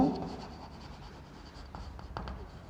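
A marker or chalk scratches on a board during a biology class on blood groups, with soft, irregular strokes and short taps, fairly faint against a low room hum and no talking.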